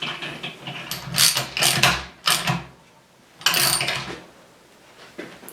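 A socket wrench ratchets as it winds an M10 bolt with a couple of stopper nuts into place, giving several close clicking bursts separated by pauses, with no talk.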